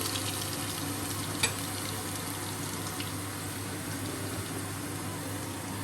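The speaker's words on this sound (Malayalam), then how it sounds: "അത് എണ്ണയിൽ കിടന്നൊന്ന് മൂക്കട്ടെ." Chopped garlic fries in hot oil with a steady close sizzle, one brief clink of a utensil partway through, over a low constant hum.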